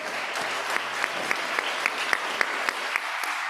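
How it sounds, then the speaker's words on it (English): An audience at a plenary session of a sustainability conference applauds an expert panel, steady dense clapping from a sizable crowd throughout, with a few sharper claps standing out. "we can give our expert panels a big round of applause"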